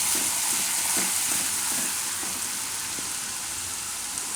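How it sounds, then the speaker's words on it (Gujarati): Asafoetida frying in hot oil while it is stirred, a steady close hissing sizzle with faint soft scrapes of the spoon early on. "આમાં હિંગ નાખી દેવાનું થોડીક વાર આ રીતે તેલમાં ફેરવી લેવાનું"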